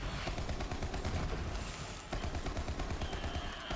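Sustained machine gun fire in a shooter video game using a Moze build, a dense rapid stream of shots with no pause over the whole stretch, loud and close.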